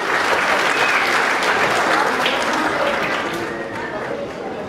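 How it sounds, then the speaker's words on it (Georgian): Audience at a children's day event applauding a children's dance ensemble, loud dense clapping that tapers slightly toward the end. "აპლოდისმენტები გააცილოთ ბავშვთა ანსამბლი მერმისის ცეკვიდან."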